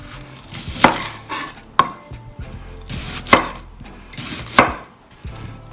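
Knife chopping a white onion on a cutting board, a handful of sharp, separate knocks spaced irregularly a second or so apart, close and clear with no talking.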